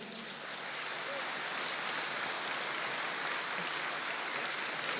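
Audience applause at a debate during an association's general assembly vote, a steady, dense wash of clapping that holds evenly for the whole stretch, moderately loud with no voices rising above it.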